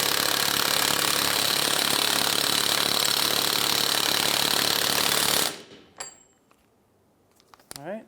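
A power tool tightens the axle nut on the rear wheel of a 2003-2011 Honda Element, a loud continuous buzzing rattle running for about five seconds before cutting off abruptly, followed by faint clinks and handling noises.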